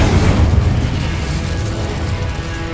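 A loud, booming fiery blast from the Incendio spell in Hogwarts Legacy, a heavy rumbling burst at the start that rolls on and slowly fades over a continuous roar.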